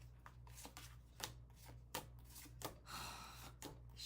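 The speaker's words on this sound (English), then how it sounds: "I don't know why I shuffled them" Tarot cards being shuffled by hand, a quiet run of crisp riffling bursts and soft slaps in uneven rhythm, close by over a low background hum.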